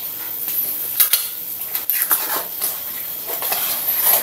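Spoon scraping and clinking against a pot while stirring chicken soup with patola and green chili, irregular metallic knocks and scrapes over a faint simmer, close up.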